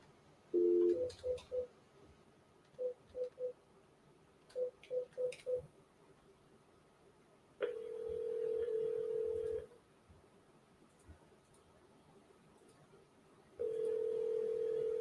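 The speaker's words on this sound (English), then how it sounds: "I can't find the phone. I hear it, but I can't find it." A lost telephone sounding somewhere nearby: clusters of short electronic beeps, then two long steady tones separated by quiet, moderately faint.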